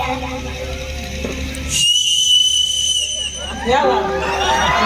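A boy whistles sharp, sustained notes amid crowd chatter, with people talking around him.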